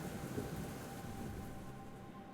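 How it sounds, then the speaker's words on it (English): Steady rain with a low thunder rumble in the video game Black Book, a continuous moderate wash of noise with no distinct claps. "The sound of the rain is really nice"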